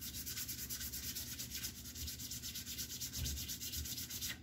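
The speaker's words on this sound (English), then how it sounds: "sand that down nice and good" Sandpaper rubs back and forth over a painted Guitar Hero guitar faceplate to knock down a high spot, making a steady rhythmic scratchy swish at close range with no voices.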